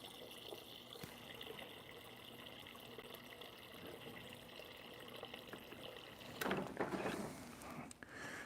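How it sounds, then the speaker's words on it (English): Water runs in a faint, steady stream as it is poured into a container of sweet tea in a home kitchen, followed by a brief louder splash and clatter near the end. "Let's get a little bit more water in this sweet tea here."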